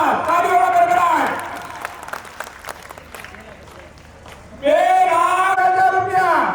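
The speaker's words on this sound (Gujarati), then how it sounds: "ધન્યવાદ. તાળીઓના ગડગડાટ." An audience applauds at a temple fundraising gathering as donations are announced, with a loud burst of clapping and cheering, a quieter stretch of murmuring crowd noise, then another strong round of applause.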